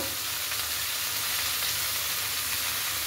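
Ginger paste fried in a pan for a Bengali shukto, giving a steady, even sizzle and hiss that holds at a constant level throughout, with no voices.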